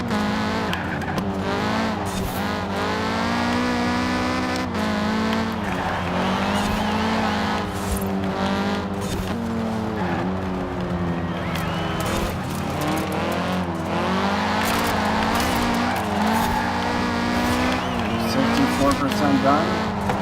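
A 2015 Audi TTS coupe races in Forza Horizon 4, its engine revving and shifting continuously with squealing tyres as it brakes and corners, while someone talks over it throughout.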